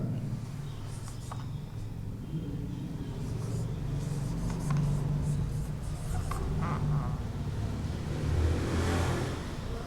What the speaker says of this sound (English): I'm writing here